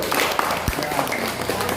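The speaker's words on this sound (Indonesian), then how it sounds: "tepuk tangan luar biasa dulu" Listeners at an Indonesian Quran-education event clap for an ustazah, short scattered applause mixed with a thump and some overlapping noise.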